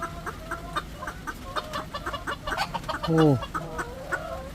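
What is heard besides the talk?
broody heritage hen clucking angrily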